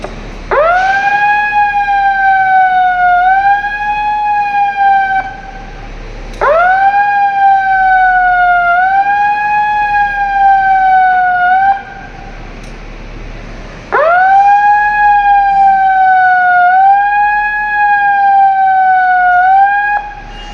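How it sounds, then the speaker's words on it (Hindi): A loud air raid siren wails in long rising and falling cycles, three sweeps with brief pauses between them, steady and close, during a civil defence mock drill in India. "ऐसी सायरन जब भी आप सुने तो तुरंत अलर्ट हो जाए कि हमारे क्षेत्र में हवाई हमला हुआ है।"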